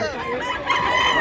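A Golden Boy gamecock, one of two brothers offered for sale in Mantalungon, Cebu, gives a long strained crow, loud and near, rising in the final half second with no talk over it.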